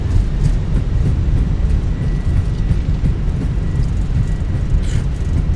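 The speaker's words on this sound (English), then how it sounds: "Reversers are out. Decelerating." A steady, loud roar of airliner engines with thrust reversers deployed during landing rollout in a Fenix A319 simulator on the runway at Santos Dumont, a continuous broadband rumble with no talk.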